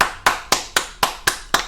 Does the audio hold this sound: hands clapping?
yes